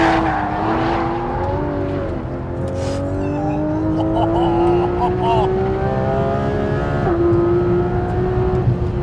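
A sports car engine revs and accelerates hard, its pitch climbing steadily through the gear, loud and close, with a brief shift midway.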